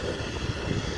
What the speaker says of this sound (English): Oh yeah, it's a Cessna. It is a Cessna. Oh, first time we see a Cessna with a tail-mounted engine.